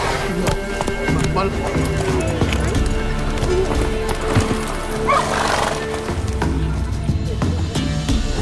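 Horse neighing and whinnying with clip-clop hooves in The Witcher 3, a mare heard amid game voices and background music, several whinnies standing out around the middle of the stretch.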